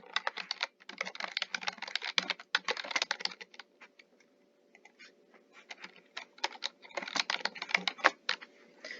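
Typing on a computer keyboard while entering a comment into a time-off request in Kronos workforce software: rapid bursts of close keystrokes with a short pause in the middle, then more clattering.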